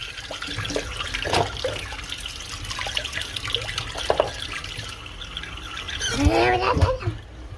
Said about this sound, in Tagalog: Washing this dishes.